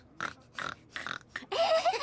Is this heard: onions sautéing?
no